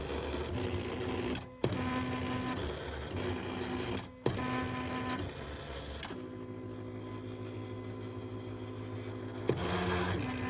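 Electronic cutting machine slicing treated appliqué fabric shapes, a close mechanical whir with steady motor hum and repeated abrupt clicks and pauses as the blade carriage moves and changes direction.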